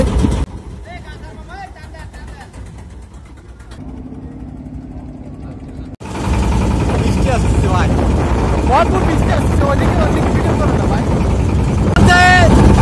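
An engine boat reverses on the river at Khulna ghat. A quieter stretch with voices gives way to a loud, steady engine drone that takes over abruptly and keeps running under people talking.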